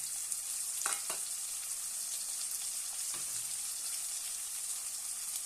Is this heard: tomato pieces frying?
yes